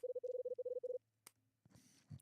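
A rapid run of telephone keypad dialing tones from the video game Last Window, a dozen short beeps in quick succession, followed by a click and a brief electronic burst, with no talking.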